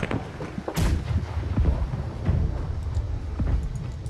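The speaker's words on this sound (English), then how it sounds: "I have discharged the entire contents of my weapon!" Video game gunfire booms out in a rapid series of loud, heavy shots and blasts over about four seconds, with no voices.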